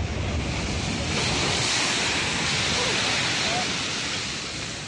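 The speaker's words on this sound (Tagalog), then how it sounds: "Walang humpayang hampas ng alon pagising kanina ng mga taga-Virac, Catanduanes." Storm-surge waves from Super Typhoon Pepito pounding the shore at Virac, Catanduanes: a dense, continuous roar of surf mixed with buffeting wind, loud and close, with no clear breaks between the crashes.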